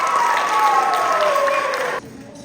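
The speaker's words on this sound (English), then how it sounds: "Give me this round of applause." Audience applause with some cheering fills a high school women's history program hall, a dense, even roar of clapping that cuts off sharply at two seconds and leaves a faint tail.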